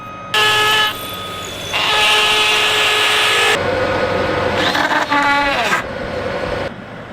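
A power tool driving Tapcon screws through siding into concrete to fix a 2x4 during a barn restoration, heard as loud sustained whining bursts with pitch shifts, close by and without speech.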